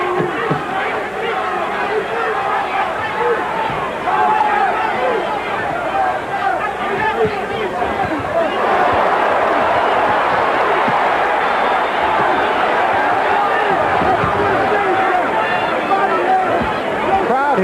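A dense, roaring crowd at the Omni arena fills the whole stretch during a 15-round WBA heavyweight title fight between Tony Tubbs and Tim Witherspoon, cheering and swelling steadily, with a commentator talking over it.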